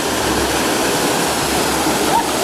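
A waterfall near Chiang Mai, one that people slide down, sends out a steady, loud, close roar of rushing water that stays constant throughout.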